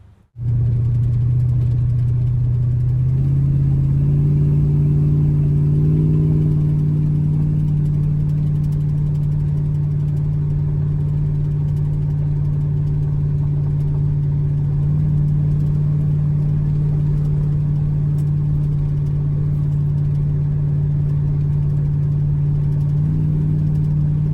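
A 1976 Ford 460 V8 fitted with an Edelbrock Performer intake starts and runs, settling into a loud, steady idle with a deep rumble and a brief rise in pitch early on.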